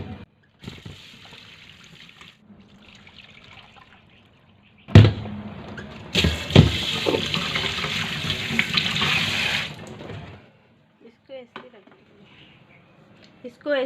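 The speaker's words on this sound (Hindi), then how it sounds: "अभी दाल धो लूँगी।" Lentils being rinsed under a running kitchen tap while cooking soda dal, a steady gush of water at close range starting around midway and lasting several seconds, with brief clatter and soft speech before and after.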